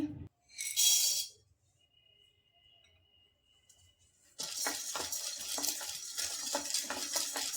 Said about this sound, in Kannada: ನೆಕ್ಸ್ಟ್ ಉರ್ಗಡ್ಲೆ ಹುರ್ಕೊಂತಾ ಇದೀನಿ